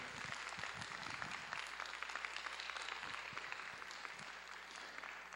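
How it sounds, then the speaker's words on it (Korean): A church congregation applauds during a Sunday worship service in Vancouver. The clapping is soft and distant, a steady patter that holds evenly for about five seconds. "박수."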